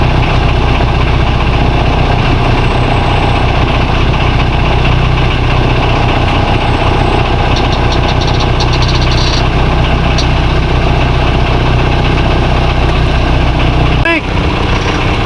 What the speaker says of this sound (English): I'm under power now, so I'm no longer sailing.